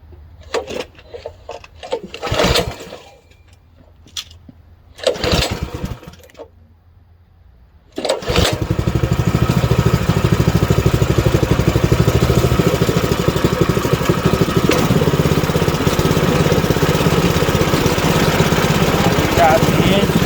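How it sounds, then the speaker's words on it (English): A Power Smart snowblower engine is pull-started outdoors in the cold: a few separate sharp rope-pull bursts with quiet gaps between them, then the engine catches and runs loud and steady to the end. "let's go ahead and start it up. Let's give her a few pulls."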